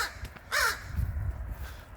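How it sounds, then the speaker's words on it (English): A crow caws once, loud and harsh, outdoors beside a lawn with bushes and weedy grass, with a faint earlier call and low rumbling background noise. "Crow crowing."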